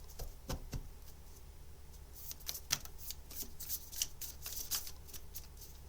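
Tarot cards are shuffled close by in soft, crisp bursts of riffling and flicking, quiet and scattered over several seconds without speech.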